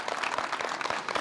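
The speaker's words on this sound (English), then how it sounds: "Please give them a big round of applause." Applause at a school promotion ceremony honoring graduating classes, a dense steady wash of many hands clapping filling the room at moderate level without pause.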